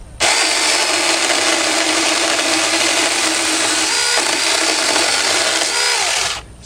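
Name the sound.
mini 4-inch chainsaw cutting mesquite wood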